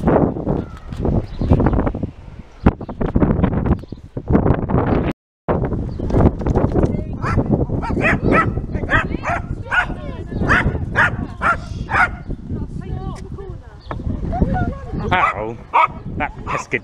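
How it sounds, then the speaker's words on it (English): Dogs in the Care Bears: Care Along video game bark and yip repeatedly on a farmyard level, chasing goats, the barks sharp and fairly loud amid busy game sounds and a speaking voice. "Dogs scaring all those lovely goats away."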